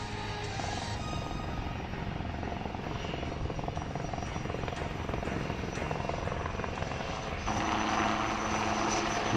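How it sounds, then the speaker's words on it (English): A light combat helicopter's rotor chop and turbine whine pass overhead during an air show display at Aero India 2019, loud and continuous, swelling slightly near the end as it flies by. "The display by the light combat helicopter"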